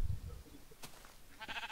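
A sheep bleats in a Minecraft game, a short wavering cry near the end after a quiet stretch, with a faint low rumble at the start.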